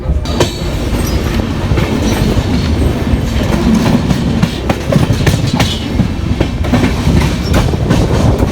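A train near Pathankot railway station in India rumbles loudly and steadily, with rhythmic clickety-clack of wheels over rail joints and occasional sharp metallic clanks throughout.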